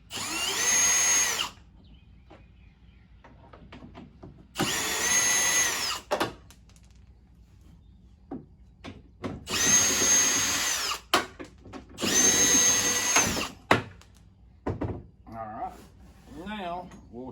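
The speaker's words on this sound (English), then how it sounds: "take a 10mm drill and go ahead and run them out" A 10mm power drill runs bolts out of a Honda Pioneer 1000 door in four loud bursts of whirring, separated by quiet gaps with small clicks and handling noises.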